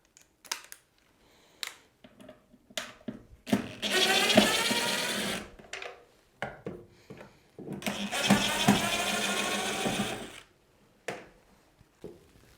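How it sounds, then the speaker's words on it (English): Back screws being unscrewed from the rear panel of a front-loading washing machine with a power driver, two sustained whirring bursts of a few seconds each, close and fairly loud, amid scattered clicks and handling knocks. "Unscrewing the bottom screw that fastens into the base of the back of the washer."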